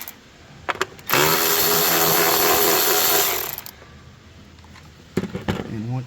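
A power tool removes 10mm bolts from the coil pack cover of a Mitsubishi Outlander, buzzing loudly and steadily for about two seconds, with a person talking briefly before and after.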